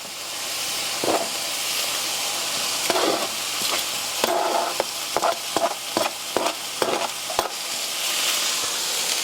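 Strips of beef stir fry sizzle and hiss in a hot skillet while a utensil stirs and scrapes, producing sharp clicks and bumps over a constant frying roar, close up with no speech.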